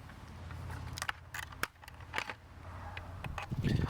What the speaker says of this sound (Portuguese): Agora remover aqui os outros parafusos.